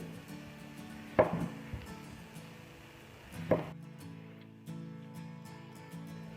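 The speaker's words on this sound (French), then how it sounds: "Vous allez couper les extrémités des carottes" A knife chops through the ends of carrots on a board in a home kitchen, two sharp close cuts about two seconds apart over quiet room sound with a light rattle.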